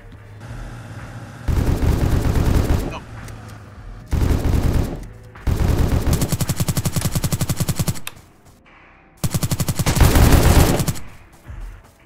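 Long bursts of rapid automatic gunfire blast at zombies in Apocalypse Rising 2, four loud sustained volleys separated by short pauses, close and dominant with no talk.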